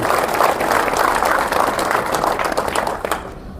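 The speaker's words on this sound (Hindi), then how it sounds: "एक बार जितने मेरे सम्मानित बुजुर्ग बैठे इनके लिए जोरदार तालियां।" Hearty applause from a seated village crowd, including elders, at a victory speech by a legislator: a dense, fairly close wash of clapping hands that holds steady and then tapers off near the end.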